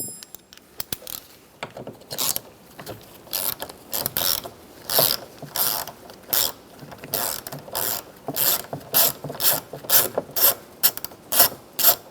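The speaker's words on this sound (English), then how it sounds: "Now take a 10mm socket, take these bolts out." A hand ratchet with a 10mm socket clicks steadily while it backs out the mirror bolts on a 2011-2015 Chevrolet Cruze. The rapid pawl clicks come in close, repeated strokes, getting denser toward the end, with no voices.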